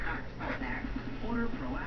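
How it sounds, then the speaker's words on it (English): A dog worked up after a bath yips and whimpers in short, close, high bursts, mixed with a person speaking over the noise. "No barking."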